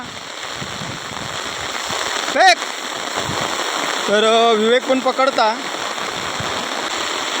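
Heavy early-monsoon rain pours steadily over a swelling stream at night during Konkan fish catching, a constant rushing hiss throughout, with people talking over it.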